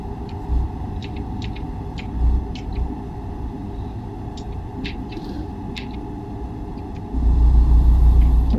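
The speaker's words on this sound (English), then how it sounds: "the truck traffic right here is pretty representative. It is kind of heavy truck traffic" Heavy truck traffic in the driving game American Truck Simulator: a steady low engine and road rumble runs throughout, swelling louder near the end, with faint brief tones scattered above it.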